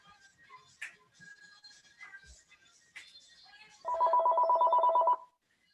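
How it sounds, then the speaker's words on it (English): Faint sounds come from a seated fitness class, then a phone nearby gives a loud, buzzy electronic ring lasting just over a second and stops abruptly. "Somebody's phone I'm hearing."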